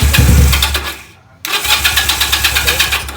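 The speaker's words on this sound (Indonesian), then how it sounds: "Tolong mas di starter mas motornya" A Benelli PE 250 FI motorcycle with a fault that stops it revving and makes its idle erratic is started: a brief crank cuts off, then the engine catches and settles into a loud, close, pulsing idle.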